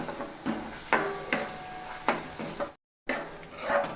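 Red chili powder fries in oil in a pan, a soft continuous sizzle broken by several scraping stirs of a spoon against the metal, close and fairly quiet, with a brief silent gap.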